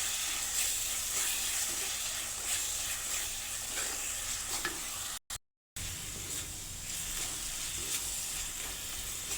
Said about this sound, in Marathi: मसाला पण आपण तेलामध्ये चांगला परतून घेऊया